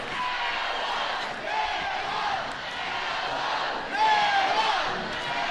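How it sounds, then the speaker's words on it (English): A college softball stadium crowd on its feet during an Oklahoma vs Alabama game, sustained cheering and shouting that swells near the end, heard at a distance beneath the broadcast. "Crowd on its feet here at the Rhodes House, understanding the opportunity in front of their team."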